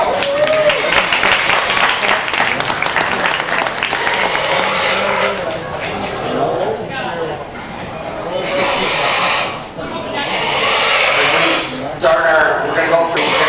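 Crowd applause at a county fair swine show, loud and sustained clapping mixed with livestock noise and some talk, swelling and dipping over several seconds.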